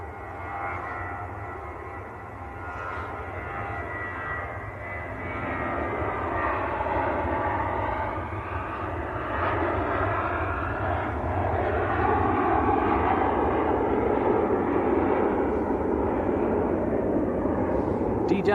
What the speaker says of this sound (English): BA just rolling away on the other side, going back down to Heathrow. Airbus A320.